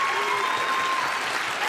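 A group of Democrats clapping together, a short dense burst of applause at close range that stays loud and even through the brief stretch.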